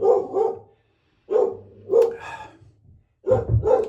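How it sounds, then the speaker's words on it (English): A dog barks at a mail carrier arriving at the house, giving several loud, close bursts of barking in two or three clusters separated by short pauses. "Man, he loves barking at UPS."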